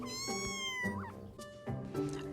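Several distinct cat meows in quick succession, close and clear, each rising and falling in pitch, with no talking.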